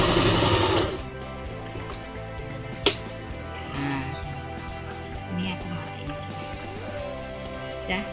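A Janome RE1312 portable sewing machine stitches at a slow setting, close and mechanical. A loud whirring burst opens, then a softer, steady needle rhythm with a few sharp clicks.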